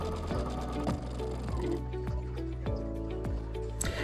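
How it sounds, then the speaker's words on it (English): A sewing machine stitches a quilt binding strip in steady, fast bursts, each run stopping and restarting several times, close and loud with no talking. "Now we're going to sew."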